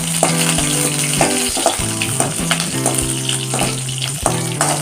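Slit green chillies crackle and sizzle loudly in hot oil during tempering. A spoon scrapes and clinks against the pan in an irregular stirring rhythm close by, with no voices.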